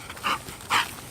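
A dog gives two short, loud yelping barks with a whimpering tone, close by and alone, outdoors before brush clearing with a chainsaw.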